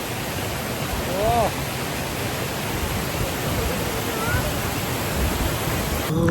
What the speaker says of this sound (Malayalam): അമ്പോളി വാട്ടർഫോൾസ് ഒരു രക്ഷയില്ല.